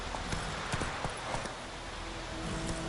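Roach the horse clip-clops along in The Witcher 3, hooves striking in a quick, steady rhythm over a dense, even background wash.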